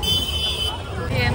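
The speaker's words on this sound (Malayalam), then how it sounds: "ഇവിടുത്തെ ഈ ഒരു ഹോണടി കേട്ടിട്ട് നമ്മളെ ചെവി അടിച്ചു പോയി എന്ന് വേണമെങ്കിൽ പറയണം" Car horns toot amid busy Delhi street traffic, a sustained blaring tone over road rumble, with a person talking throughout.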